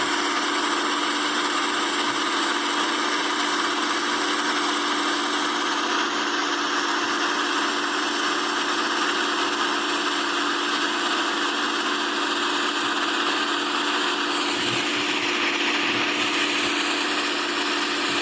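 Motorboats race one another on the sea off Goa, packed with families heading out to see dolphins. Their engines make a loud, steady, close drone that holds for the whole stretch, with no voices.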